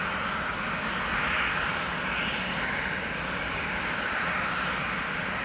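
A KLM jet airliner departing Amsterdam Schiphol for Toulouse, its engines a steady, loud, broadband roar holding nearly constant for the whole stretch, with no voices over it.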